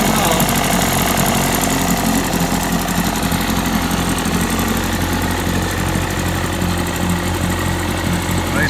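A rebuilt 1966 Johnson 40hp Super Seahorse electromatic outboard motor runs steadily at idle on its first run, a loud continuous rumbling drone with a rapid knocking pulse and rattling vibration.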